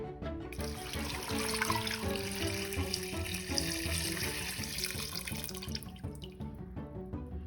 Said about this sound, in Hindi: और अब हम यहाँ पे पानी ऐड कर देते हैं।